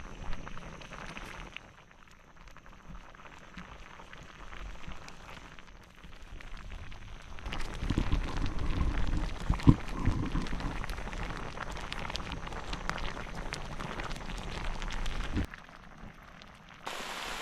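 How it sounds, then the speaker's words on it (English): Heavy rain pours down in a forest around an outdoor kitchen where Naga-style smoked fish cooks over a fire, a steady dense hiss that swells louder midway and holds before easing, with no talking. "again heavy rain. As you see this raining, and my kitchen is all wet."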